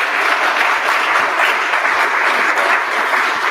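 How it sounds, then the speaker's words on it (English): Steady, dense audience applause at a startup week talk session, sustained and fairly loud for several seconds with no voices over it. "Let's give a round of applause for Tom"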